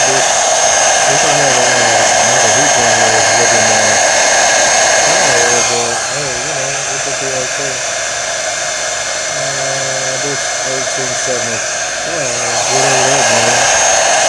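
Close and loud, a heat gun blows a steady high-pitched whirring stream of hot air while heating a 3M sole protector on a luxury shoe. The pitch dips slightly midway, and a voice talks faintly underneath.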